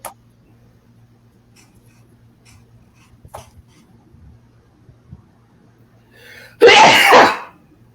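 A single loud, explosive sneeze bursts out near the end after a stretch of quiet room tone with faint scattered knocks.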